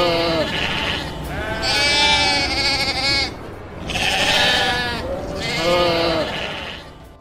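Sheep bleating loudly and close by, three long wavering bleats in succession separated by brief pauses, with no other voices over them.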